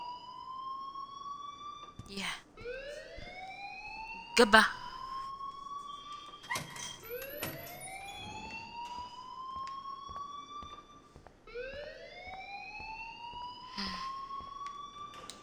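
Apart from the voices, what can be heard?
school alarm ringing in video game Life is Strange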